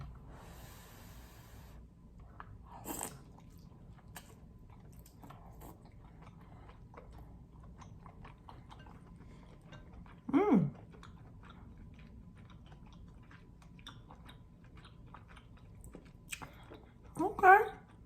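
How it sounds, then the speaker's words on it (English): Someone bites into king crab in garlic butter sauce and chews, with a few short, crunchy bursts of biting and chewing spaced out over a quiet room and faint background noise. "Okay, let's take a bite."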